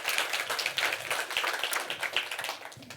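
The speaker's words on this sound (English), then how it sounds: "Let's really give a round of applause for the team at PFL." Audience applause for a marketing team at a B2B conference, a dense, steady crackle of many hands clapping for about three seconds, fairly loud throughout and thinning slightly toward the end.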